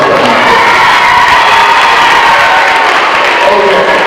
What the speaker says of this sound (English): give me some ladies a round of applause